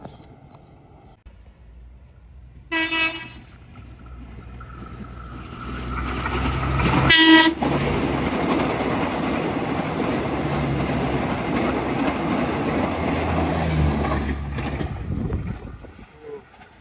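A KRD diesel railcar train approaches with a horn blast and passes close by at about 80 km/h, its rumble and clatter building loudly and holding for several seconds before fading away.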